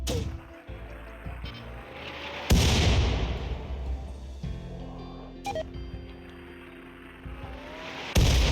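Artillery shells fire in RimWorld, with loud booming blasts at the start, midway and near the end, each one standing apart against a low rumbling hum.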